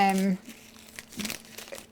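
Small pieces of cut acetate, shaped like little raindrops, crinkle and rustle in the hands in light, scattered crackles, after a brief voice at the start.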